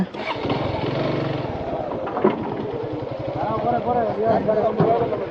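A motorcycle engine runs and revs unevenly nearby as the bike is unloaded, while people talk over it, with a few clanks and knocks in between.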